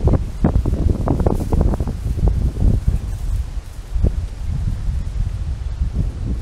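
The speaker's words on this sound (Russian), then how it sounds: "очень сильный ветер" Strong wind buffets the microphone beside the Volga at a riverside pier, with heavy low rumbling gusts and rustling throughout, loudest in the first few seconds and steady after.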